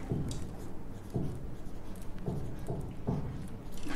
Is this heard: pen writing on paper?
yes